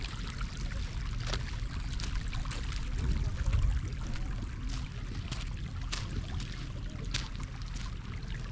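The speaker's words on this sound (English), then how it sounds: "So this water here is boiling, boiling hot." Boiling hot spring water at Geysir in Iceland, a steady outdoor bubbling and gurgling wash with a slightly louder surge midway and wind-like noise throughout.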